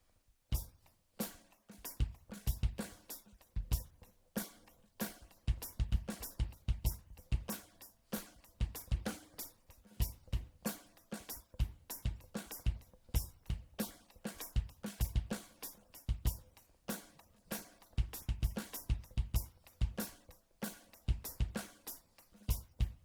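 A drum kit plays a steady repeating four-bar groove of punchy bass drum and snare hits with bright hi-hat ticks, even rhythm throughout, no voices.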